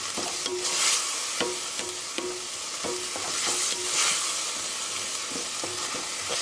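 Soy sauce stir-fried for mapo tofu sizzles steadily in a hot pan, while a spatula scrapes and taps in a repeated rhythm close by.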